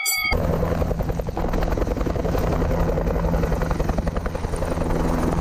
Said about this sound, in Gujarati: હું તો હેલિકોપ્ટરમાં જાઉં છું